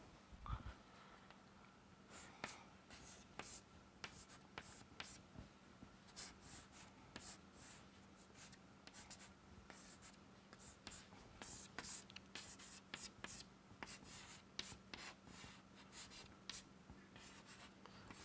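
Marker or chalk writing on a board during a nonlinear optics lecture, with repeated short scratchy strokes and taps in irregular bursts over a steady low hum, close and fairly quiet.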